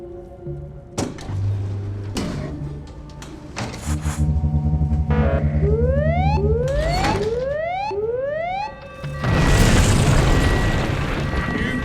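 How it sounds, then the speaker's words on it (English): A floor gives way in the game We Happy Few, with heavy booms and mechanical rattling that build into a loud, rumbling crash near the end. "The whole floor's collapsed."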